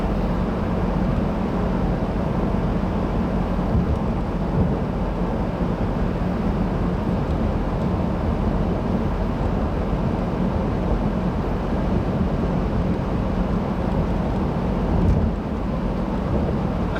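A 2015 Subaru WRX with a six-speed manual is driven hard, its engine and road noise a steady loud drone heard from inside the cabin with no talk.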